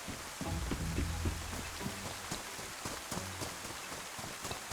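Rain falls in the survival video game DayZ, a steady close patter of drops hitting surfaces with soft irregular thuds, heard alone without talk.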